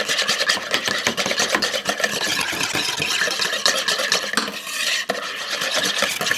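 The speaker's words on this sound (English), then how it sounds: "you're just going to give this a good whisk" A whisk stirs keto chocolate donut batter in a bowl as coconut flour is added, giving continuous close scraping and rubbing strokes in a fast, uneven rhythm.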